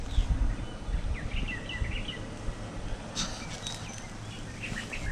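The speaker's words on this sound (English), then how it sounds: "Of course, you can hear the birds. They're just a chirping away." Small birds at a backyard feeder with seed also spread on the ground, high thin chirps scattered through the clip, faint and a little distant above a heavy low rumble of outdoor noise.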